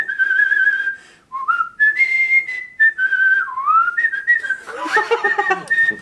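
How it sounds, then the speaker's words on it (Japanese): A person whistles a melody from a Totoro song, adding small flourishes, with clear sustained notes and quick slides that run nearly continuously, close and fairly loud, with brief gaps and light background chatter near the end. "口笛うまいな。"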